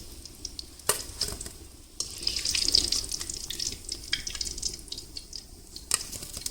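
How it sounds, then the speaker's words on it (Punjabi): Malai kofta fry in hot oil with a close, continuous sizzle, broken by stirring clinks and scrapes in the pan. "ਜਿਹੜੇ ਰਹਿ ਗਏ ਉਹ ਵੀ ਕੋਫਤੇ ਆਪਾਂ ਫਰਾਈ ਕਰ ਲੈਣੇ"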